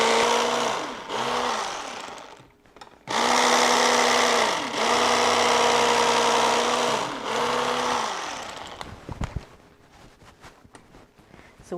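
An electric knife hums loudly and steadily in repeated long runs with brief gaps, slicing a loaf of raisin cinnamon bread made in a bread maker, ending with quieter handling clatter.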